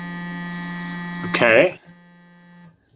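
An FPGA-based FM synthesizer holds a steady, buzzy harmonic tone with its second oscillator at five times the first's frequency. A voice briefly cuts in over it, then the tone resumes quietly before stopping.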